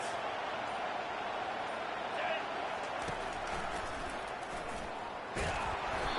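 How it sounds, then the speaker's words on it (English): A stadium crowd in a college football video game gives off a constant, dense roar that never lets up, with a sharp thump near the end. "This crowd trying to make life miserable for this offense."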